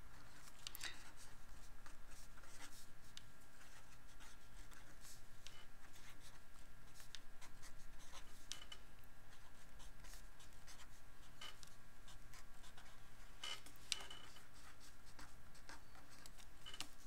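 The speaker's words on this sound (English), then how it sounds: "So we can just write that down and we'll be done." Hand writing on paper while working an AP calculus free-response problem, with steady soft scratching and scraping of the pen throughout, close and fairly quiet.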